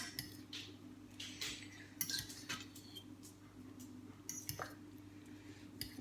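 Metal utensil scraping and clinking against the inside of a soup pot while bay leaves are fished out of celery soup, soft scattered taps and scrapes close by with no talk.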